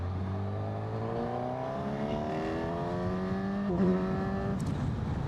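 A Honda CB1000GT motorcycle engine accelerating in third gear, a strong rising drone that climbs steadily in pitch for several seconds, loud and close, heard alone without talk.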